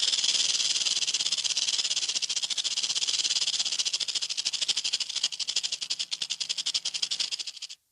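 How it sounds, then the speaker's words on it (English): A rattlesnake rattles in a steady, dry, hissing buzz that runs loud and close for about eight seconds, pulsing faster toward the end before stopping abruptly. "Rattlesnake."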